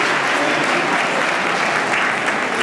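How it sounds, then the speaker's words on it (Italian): Steady, dense applause from a seated audience of parents at a children's Christmas recital, filling a hall evenly and continuously with no voices rising above it. "le incoraggiamo con un applauso alle mamme e bambini"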